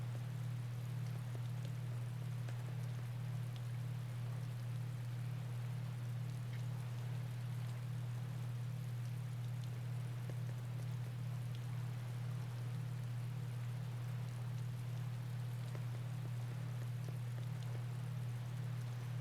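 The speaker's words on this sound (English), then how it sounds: "A beautiful sound of rain." Rainfall in the video game Tales of Berseria, a soft steady patter with no music, quiet and unchanging throughout beneath a constant low hum.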